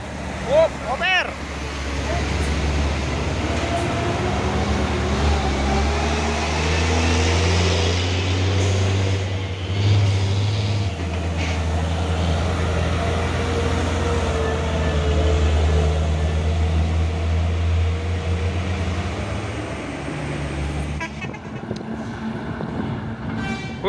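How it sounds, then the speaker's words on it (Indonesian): Heavy trucks, including fuel tankers and trailers, grinding up a steep uphill road at Bukit Kodok, a deep engine drone rising and falling as they pass close by, with people talking over it. "Terpantau rame lagi kendaraan yang berlewatan dari tanjakan Bukit Kodok di siang hari ini"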